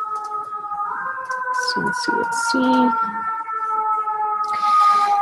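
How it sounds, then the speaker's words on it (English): Emergency vehicle sirens wail steadily outside, a sustained rising-then-level tone heard through the room while a person talks briefly over it. "I'm so sorry about the sirens"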